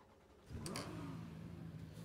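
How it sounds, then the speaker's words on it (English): In the racing sim GTR 2, a stalled car's engine is restarted: a brief starter whir catches into an idling engine with a rising then steady hum, faint and alone. "Oh, that starter sound."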